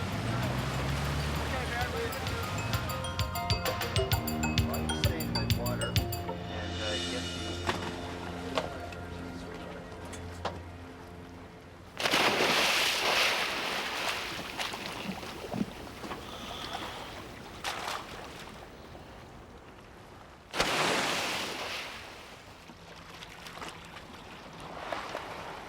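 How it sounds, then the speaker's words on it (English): A boat engine revs with a rising, droning tone before a shark feeding at sea, then wind gusts and water noise take over. "the captain revs the boat's engines"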